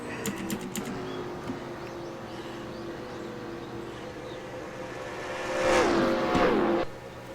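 A race car in the NR2003 racing video game at Kansas Speedway passes on the track, its engine rising loud and close with a swept pitch before falling away, over a steady background of other cars' engine drone.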